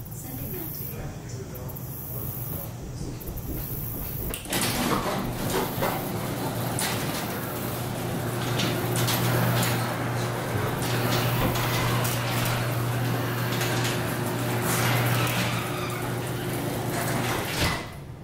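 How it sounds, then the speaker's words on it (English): A garage door opens on a voice command given through an Amazon Echo, a steady mechanical hum and rumble that runs alone for about thirteen seconds after brief shuffling and talk at the start. "Alexa, trigger garage door."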